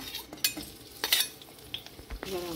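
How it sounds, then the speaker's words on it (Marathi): Chillies sizzle in two spoonfuls of hot oil in a home kitchen pan while being stirred, with sharp metallic spoon scrapes and clinks breaking through a low, steady frying hiss. "मातशें ताका फ्राय करून घेयात."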